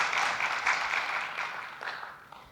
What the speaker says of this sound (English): So let's give her a round of applause for that.